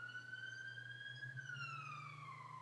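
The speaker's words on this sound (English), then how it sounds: "Siren." An emergency siren wails outside, a faint distant tone sweeping slowly up and then down.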